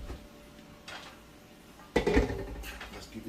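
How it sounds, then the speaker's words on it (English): A spoon stirs vegetarian jambalaya in a pot on a stove over low heat, giving a faint scrape followed by a louder clatter of utensil against the pot, with no talking. "Just give it a quick stir."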